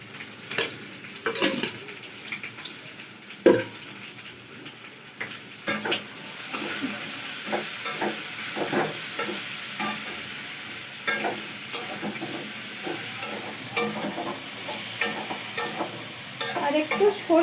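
Malabar spinach greens are stir-fried with a little sugar in a pan, giving a continuous sizzle broken by repeated scraping and clattering stirs of a utensil against the pan, close and fairly loud, with no talking.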